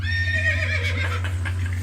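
A horse neigh played from a soundboard, a loud, close whinny with a shaky, descending call lasting under two seconds and heard alone.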